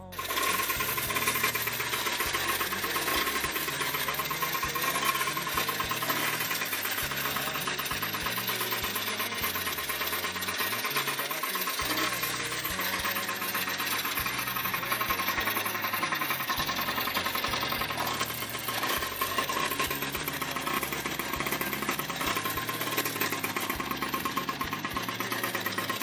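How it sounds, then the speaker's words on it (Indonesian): A Yamaha Y100 motorcycle engine runs steadily after a carburetor repair, a continuous rapid buzzing idle with a faint mechanical rattle throughout and no talk. "motor sudah hidup"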